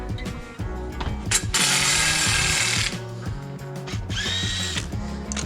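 Power tool or ratchet work removing the valance and wiper motor from a Mitsubishi Colt CZT turbo hatchback, with loud bursts of whirring and clicking mechanical noise, close and continuous, no talk.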